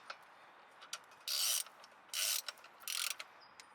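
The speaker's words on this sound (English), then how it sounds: "hand tighten it with a ratchet" A ratchet hand-tightens the front wheel bearing nut on a 1990-1997 Jaguar XJ6, giving three short, quiet clicking strokes spaced about a second apart with faint clicks between them, alone in a quiet garage.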